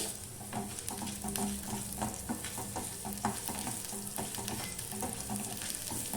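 Whole spices (coriander seeds, fennel, dried red chillies, peppercorns, cloves and cinnamon) dry-roasting in a pan over a low flame: a continuous dense crackle with light, irregular stirring scrapes throughout.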